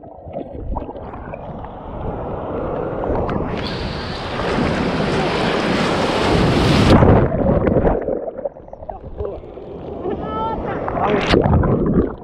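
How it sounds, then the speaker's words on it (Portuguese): Rough surf breaking at Ubatuba beach, a heavy rushing wave crash swelling and then fading, with wind buffeting the microphone and people talking and shouting nearby. "As ondas tá bravo aqui, hein?"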